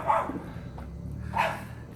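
Chihuahuas barking, two short yappy barks about a second apart, fairly close and loud over a low background hum.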